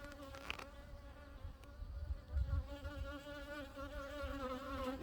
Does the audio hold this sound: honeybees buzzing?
yes